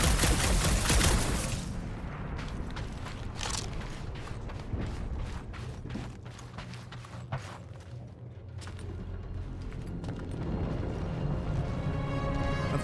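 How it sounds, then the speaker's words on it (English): Rapid bursts of blaster-style gunfire from a ship's guns in the Guardians of the Galaxy game, a dense volley up front, then spaced sharp shots over mechanical clanks and a steady engine hum. "Just making sure my guns work."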